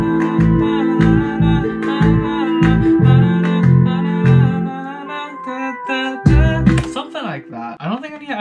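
Two layered synth basses, one being the Analog Dreams Gold Standard preset, in a bedroom pop track, pulse in a loud rhythmic pattern under a brighter melodic layer, pause briefly, then return with gliding notes.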